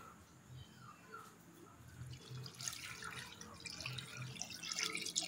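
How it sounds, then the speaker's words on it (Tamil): Water poured from a tap or jug over mutton bones in a pot for soup, a steady trickling and splashing stream that grows slightly louder toward the end, heard close with a faint low hum beneath. "இப்போது நம்ம வந்து தேவையான அளவு தண்ணி விட்டுக்கலாம்"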